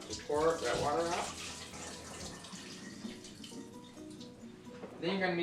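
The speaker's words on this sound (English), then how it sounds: "I'm going to pour that water out" Water is poured out of a cooking pot into a kitchen sink, a running, splashing gush that swells and eases, with a person talking over it.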